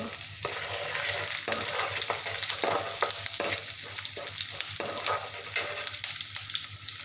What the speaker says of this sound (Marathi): आणि कढीपत्त्याचे पाच सहा पानं सोडत आहे